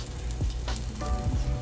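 Crepe batter sizzles steadily in a hot pan, a close, continuous frying hiss with a few soft scraping touches as it is spread.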